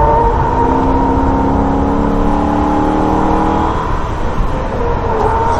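A Holden race car on a record lap of the Nurburgring, its engine loud and close as it revs hard, pitch climbing through a quick upshift and then holding wide open.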